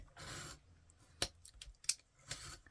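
Scissors trim around a vintage magazine image of banana bread, giving soft rustling paper cuts with a couple of sharp blade snips in between, close and fairly quiet.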